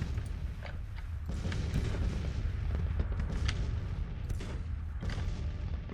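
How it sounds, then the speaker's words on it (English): Cannons fire in the Civil War strategy video game Grand Tactician: The Civil War, with scattered booming shots and crackling reports over a continuous rumbling battle din, steady and mid-distance. "Cannons are blasting."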